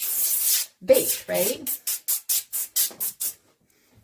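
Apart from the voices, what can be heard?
spraying oil on meatballs before baking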